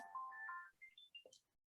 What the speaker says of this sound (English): I'm sorry about the phone that's going off.